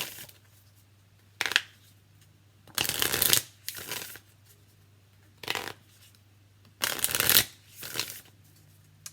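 Tarot deck being shuffled in several quick bursts of riffling card noise, close and crisp, separated by pauses over a faint low hum.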